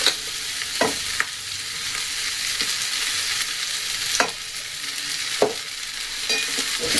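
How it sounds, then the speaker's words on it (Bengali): Cooked rice is stirred into frying ingredients in a pan, a steady close sizzle with scattered spoon scrapes and knocks against the metal, no one talking. "এবার ভাতগুলোকে আমি মেশাবো।"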